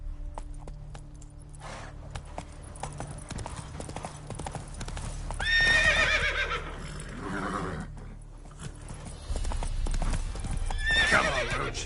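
Roach, a horse in The Witcher 3, clip-clops along at a steady pace with hooves thudding, then lets out two loud neighs, one in the middle and one near the end, over a low ambient background.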